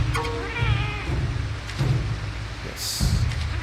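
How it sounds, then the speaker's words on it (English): A pet cat meows close by, one drawn-out wavering call at the start, followed by quieter rustling and room noise with a brief hiss near the end. "Oh, no, that's my cat."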